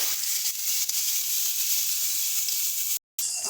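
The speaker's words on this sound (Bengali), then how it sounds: "ভালো করে নেড়ে চেড়ে বেগুনটাকে ভেজে নেব" Eggplant pieces frying and being turned in a pan: a loud, steady, close sizzle throughout, with a brief break near the end and no talk.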